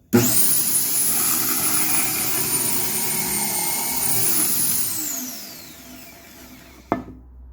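A Kreg Foreman pocket hole machine runs as a loud, steady high-pitched motor whine for about five seconds, then spins down. A sharp click follows near the end.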